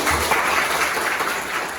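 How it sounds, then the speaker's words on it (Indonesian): Students in an Indonesian mathematics classroom clap together for their teacher, a dense, steady burst of nearby hand claps that fills the short moment without any talking. "Tepuk tangan untuk Ibu Bella."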